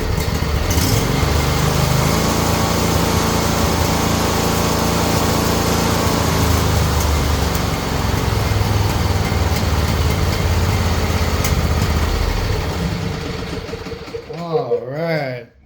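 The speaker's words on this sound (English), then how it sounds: "I adjusted that idle screw. Let's see how it idles now." A small John Deere engine runs steadily at idle right after its idle screw was adjusted, a close, loud, even drone with a low rumble that holds for about fourteen seconds before cutting out near the end.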